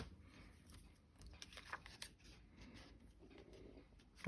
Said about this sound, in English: And we'll grab the big scissors again.